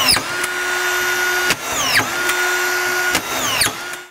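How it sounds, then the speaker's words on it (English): A DEWALT DCF620 XR brushless collated screwdriver runs in forward, driving screws in a loud, close, steady whir with about six sharp clacks as the strip feeds and each screw seats. "we have it in forward or reverse, so we're driving the screws in, we need to go forward"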